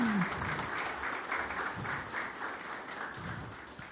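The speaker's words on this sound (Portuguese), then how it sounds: "Faça salva de palmas." Steady applause from a small audience at a sales and business talk, a dense even patter of clapping holding at a moderate level for the whole stretch with no voices standing out.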